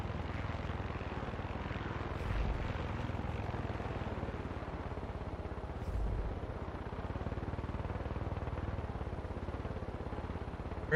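A steady, droning helicopter rotor and engine hum from the video game Far Cry 6 runs unbroken throughout at moderate level, with no voices.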